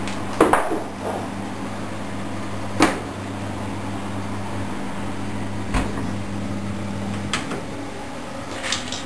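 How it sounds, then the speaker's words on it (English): Kitchen handling sounds as a baked banana cake is taken out of an oven: a few sharp clunks and knocks spread over a steady appliance hum, with no talk. "Now we take it out of the oven"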